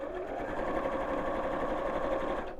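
A sewing machine stitches continuously at a steady fast rate, a dense even whirring hum that holds loud and close for the whole stretch with no talk over it.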